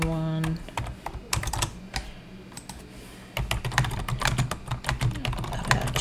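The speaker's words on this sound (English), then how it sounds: "So you just typed in the date" Fast typing on a computer keyboard while entering a date into a business to-do list, crisp clustered keystrokes in bursts with a short pause partway through, close and fairly loud.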